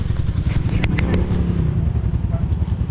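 A Yamaha NMAX motor scooter engine idles and putters close by in a steady low drone with a few clattering knocks, running the whole time under faint background activity.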